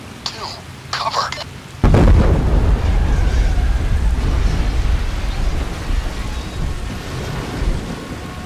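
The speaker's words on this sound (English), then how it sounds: "Detonate him in 4, 3, 2, cover." A detonation in the video game Payday 2 on a bridge: a sudden deep, heavy boom bursts in after a few faint sounds, then a long rumbling roar of debris rolls on and slowly fades.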